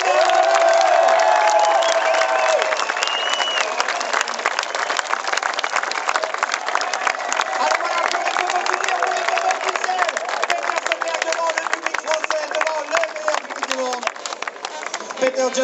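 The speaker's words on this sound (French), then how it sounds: "Vous êtes un public exceptionnel. Bon applaudissements pour Peter Solberg." Spectators at the 2014 Lohéac rallycross Supercar final in France cheering and applauding for Petter Solberg, a dense wash of clapping and shouting from a large crowd that slowly fades, with a voice over a loudspeaker near the start.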